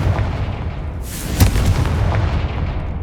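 The Confringo spell goes off in Hogwarts Legacy as a single booming blast with a sharp crack and a rumbling tail, loud and close, with no voice over it.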